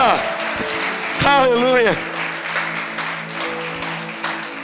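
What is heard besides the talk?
congregation applauding loudly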